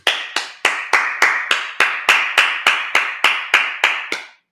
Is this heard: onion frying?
no